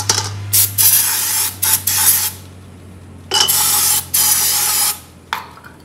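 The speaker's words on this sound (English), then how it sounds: "I'm gonna clean these parts up real quick with some brake clean" Brake cleaner sprayed onto car brake and transmission parts: repeated hissing aerosol bursts of a second or two each, with short pauses between, close and loud.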